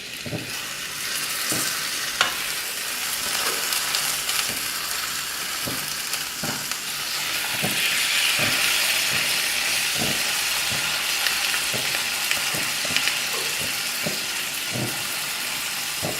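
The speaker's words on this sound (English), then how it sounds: "So this has been roasting or grilling on the other side for about 10 minutes now." Kerala-style fish, meen pollichathu, grills in a hot pan with a continuous close sizzle and hiss, broken by regular clicks and scrapes of stirring or handling, and the sizzle swells slightly partway through.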